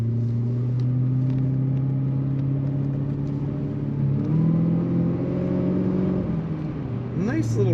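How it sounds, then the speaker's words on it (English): A 2007 Cadillac XLR-V on the road, its exhaust giving a steady low rumble and engine drone while driving, with the pitch shifting slightly as the car accelerates, heard from inside the cabin. "Nice little rumble to that exhaust."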